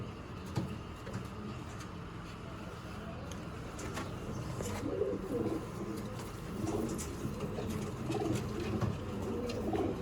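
Teddy pigeons cooing in low, soft repeated coos over steady background noise and faint chirps, with occasional muffled voices.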